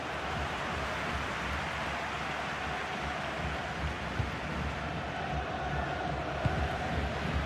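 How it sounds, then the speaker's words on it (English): Football stadium crowd in a video game, a steady distant roar of massed voices, unbroken and fairly quiet, with no clear chants or cheers standing out. "Just listen to the crowd, Derek, urging their team on."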